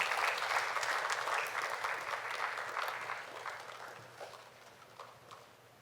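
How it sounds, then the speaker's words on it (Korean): A church congregation at a Wednesday worship service claps in a dense round of applause that gradually thins and fades toward the end. "하나님께 다시 한 번 더 영광의 박수 올려드리겠습니다"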